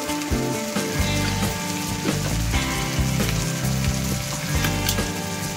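Masala with turmeric, Kashmiri chili powder and salt fries in a pan for a vegetarian stuffed aloo dum, giving a steady, dense close-up sizzle with a crackling rain-like texture and no voices.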